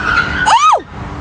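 A young driver's first car skids through a missed turn, a loud tire squeal sweeping upward and then sharply down within about half a second over steady road noise.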